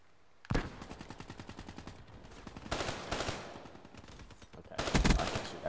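Rapid automatic gunfire bursts from Black Ops 3 gameplay on the Nightfall map, with a dense rattling volley at the start followed by two louder, sharper bursts later, loud and close with no talk.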